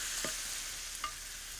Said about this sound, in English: This is kind of the sizzle time, right?